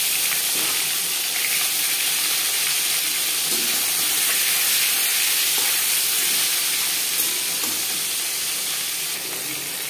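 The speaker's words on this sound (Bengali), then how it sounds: "তিন চামচ রিফাইন্ড অয়েল গরম করে নেওয়ার পর দিয়ে দেব মাছ" Katla fish frying in three spoons of hot refined oil in a large wok, a loud, steady sizzling hiss that runs unbroken throughout with no voices.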